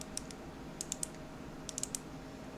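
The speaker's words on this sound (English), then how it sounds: "I don't know if you can hear that clicking" The childproof dropper cap on a leaking bottle clicks faintly in two quick clusters of small sharp ticks, close by and otherwise quiet.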